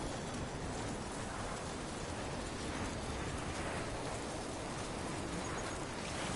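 Steady, dense rain in the video game Death Stranding, an unbroken wash of hiss and patter that stays even and close throughout, with no voices.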